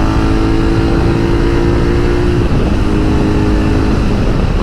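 A 2019 Suzuki V-Strom 650 motorcycle ridden hard, its engine droning steadily and loudly close by with a sustained tone that drops in pitch midway as the rider shifts or eases off.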